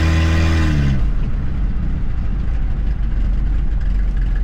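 A 1938 Ford F1 truck engine fitted with a turbo revs with a falling tone for about a second, then settles into a loud, steady, close rumble with no voices.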